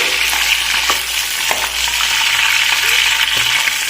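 Green chilies fry in a hot pan with a loud, dense, continuous sizzle, a few soft clinks of stirring breaking through, close up and with no talking.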